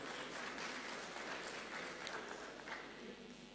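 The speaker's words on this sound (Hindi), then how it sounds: "एक बार ज़ोरदार तालियां हो जाएं" Audience at a kavi sammelan mushaira poetry gathering breaks into strong applause, a dense, even roar of many clapping hands heard from a distance that holds steady and eases slightly toward the end.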